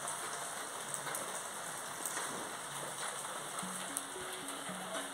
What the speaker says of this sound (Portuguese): Tá chovendo?